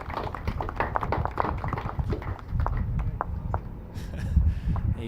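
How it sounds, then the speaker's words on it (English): Supporters applaud at a lawn bowls national singles and pairs finals day, with scattered, fairly close claps rising and falling over steady crowd murmur. "You can hear the applause from the supporters, of which there were a lot."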